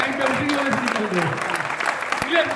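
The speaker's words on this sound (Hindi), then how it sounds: "इनके लिए तो ताली बजाई दो" A studio crowd at a 1000th-episode cake-cutting celebration for the TV series Pushpa Impossible breaks into steady, close applause, dense clapping that continues throughout with voices underneath.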